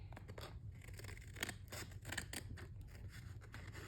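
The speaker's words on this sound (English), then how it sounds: "when you have excess white, you want to get your scissors and you want to cut it." Scissors cutting excess white paper from a printed cake wrapper, a quick series of close, crisp snips and rustles, fairly quiet and with no talking.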